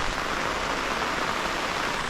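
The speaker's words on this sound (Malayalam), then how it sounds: "ഭയങ്കര മഴ കേട്ടോ നല്ല സൂപ്പർ മഴ" Heavy monsoon rain pours down in a dense, unbroken hiss, loud and close with no gaps, during a forest downpour in elephant country.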